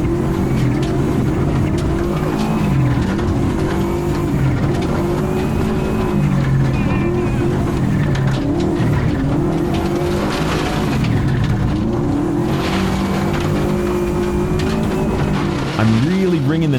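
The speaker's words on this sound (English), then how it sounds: "I'm really wringing the neck of this old engine through here now" Old race car engine revving hard through corners on a track, loud and close, pitch climbing and dropping repeatedly with brief tire squeals, with a voice talking over it at times.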